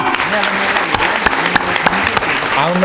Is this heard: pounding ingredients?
no